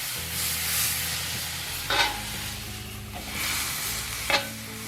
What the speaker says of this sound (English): we're just searing up that meat on the outside